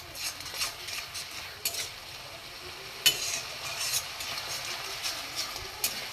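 A spice paste stir-fried with a little water for a potato curry, giving a steady soft sizzle broken by irregular scrapes and light clinks of the spoon against the pan, with a sharper knock near the middle.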